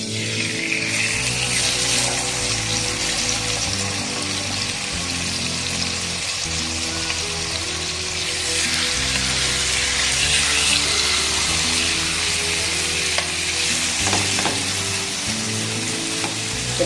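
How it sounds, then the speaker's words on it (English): Beef steaks fry in hot oil in a fry pan, a loud, steady sizzle that crackles and hisses without pause, close up, with low clattering underneath. "now we will proceed to fry the steaks"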